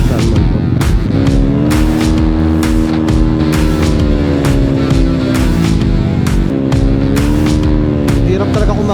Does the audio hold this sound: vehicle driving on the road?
yes